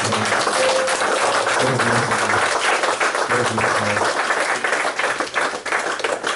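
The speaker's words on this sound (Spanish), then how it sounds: "Un aplauso para el Señor" Worship congregation applauding together in a church service, a dense, steady wash of many hands clapping throughout, with faint voices mixed underneath.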